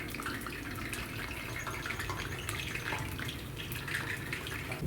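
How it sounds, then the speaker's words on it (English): Brussels sprouts fry in oil on a Monument Grill, a steady dense sizzle and crackle of bubbling oil, loud and continuous throughout with no talking. "When you see the bubbles start slowing down, they're getting done."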